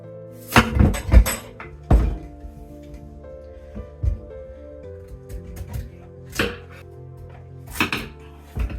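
A knife chops through a carving pumpkin on a cutting board, giving sharp, close thunks in irregular clusters with pauses between them.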